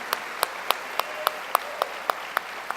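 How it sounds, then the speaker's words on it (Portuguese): Rhythmic clapping in a church congregation, about ten evenly spaced sharp claps over a soft room hum, moderately near and fairly quiet. "Você dá uma salva de palmas para o Senhor Jesus."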